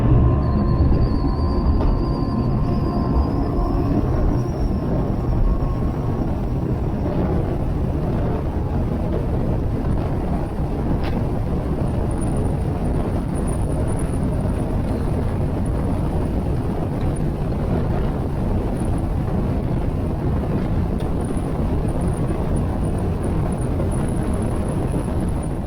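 A Checkmate boat fitted with a new Laser II 25-pitch propeller runs steadily, its engine a constant loud drone blended with wind buffeting the microphone and water rush throughout, with no talk.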